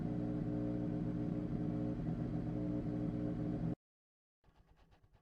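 Race car engine in the iRacing sim game, an Indy Pro 2000 car, droning loud and steady at high revs before cutting out abruptly, then a fainter engine note returning.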